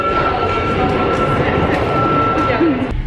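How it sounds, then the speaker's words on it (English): London Underground tube train arriving at a platform: a steady, loud rumble and whine with a high tonal hum throughout, wheel squeal near the end, voices faintly beneath. "Just waiting for our tube to come. Well, I can hear it, but I can't see it."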